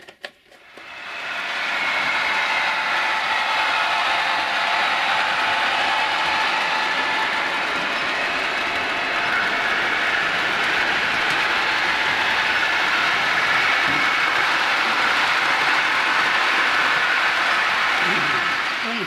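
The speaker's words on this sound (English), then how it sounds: "it's always good to go over them with a track cleaner, and that's what I'm doing there now." A model railway track cleaner runs along the layout's rails, giving a steady, continuous rushing whir that holds at an even level throughout with no voices.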